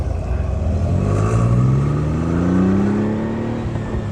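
A Ferrari Dino 246 accelerates hard through its gears, the engine note rising in a clear sweep and dropping at each shift, loud and close throughout with no talking.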